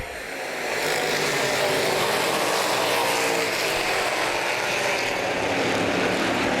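Street stock race cars roar around Plymouth Speedway during a CRA green-flag restart, a dense, steady engine drone that swells after the first second and holds loud and continuous throughout.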